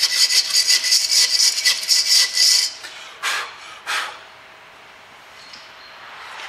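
A brush scrubs brake strike pads on a Suzuki Grand Vitara in a rapid run of close, raspy strokes, followed by two slower separate swipes and then quiet.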